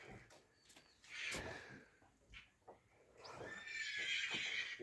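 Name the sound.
Kyrgyz horse foal neighing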